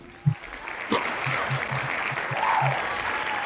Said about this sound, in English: All right, I think that deserves some hand claps.